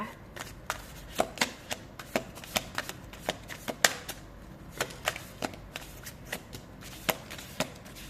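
Tarot cards shuffled and one card drawn, heard as a steady series of sharp, close card slaps and flicks at an uneven rhythm, with no voices.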